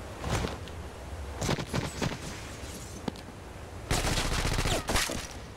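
Rapid bursts of video game gunfire from a Brazilian shooter match, crackling volleys that start and stop, with a dense final barrage near the end and no talking.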